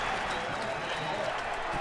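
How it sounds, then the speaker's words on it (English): Stadium crowd at a 2008 college football game between Georgia and Kentucky in Kentucky, a steady broad roar of cheering and noise that fills the whole short stretch at an even level, no distinct voices standing out. "The crowd here in Kentucky reacting to the fact that Louisville is getting pounded by Pittsburgh"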